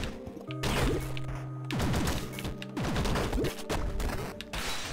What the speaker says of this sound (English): Everything I do makes everything explode.